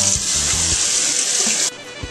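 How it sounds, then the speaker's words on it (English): Cold tap water gushes loudly and steadily over blanched celery in a colander, a close, bright hiss that cuts off near the end, with a few low clunks of handling at the start. "we're going to run it under cold water to stop the cooking process"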